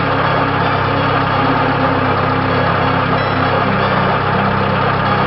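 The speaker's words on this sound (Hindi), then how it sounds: "गाड़ी एकाएक स्टार्ट हो गई।" A car engine runs at a steady, continuous idle, loud and close, with a constant low rumble and no pauses for the whole stretch.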